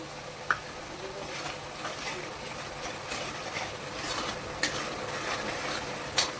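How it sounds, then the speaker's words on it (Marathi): Masala roasts and is stirred in a pan for a mixed vegetable dish. A soft, continuous sizzle carries a few sharp clinks of the spoon against the pan. "आता हे 5 मिनटं आपण मसाला छानपैकी भाजून घेऊया."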